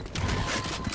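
A short mechanical clatter of a weapon being reloaded in a video game, with quick clicks and metallic rattling heard close up and on its own.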